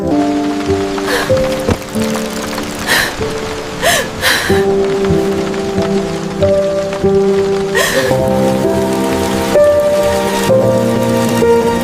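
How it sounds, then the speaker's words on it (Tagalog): Heavy rain falls steadily on surfaces, a continuous dense patter under a sustained musical background, with a few sharper splashes or gasps breaking through. "Iha, basa ka na rin sa ulan."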